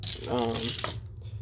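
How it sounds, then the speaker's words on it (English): An everyday-carry set of keys jingles as it is handled, giving a brief bright metallic rattle close to the microphone that fades out after about a second. "These are my keys."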